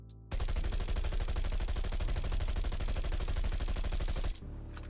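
Bizon submachine gun in Black Ops Cold War fires one long sustained burst of rapid, evenly spaced shots for about four seconds, loud and close, then stops abruptly.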